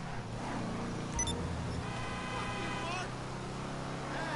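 Enus Stafford luxury car engine in Grand Theft Auto 5 hums steadily and close, a low continuous drone with a brief higher tone near the start, while a voice talks over it.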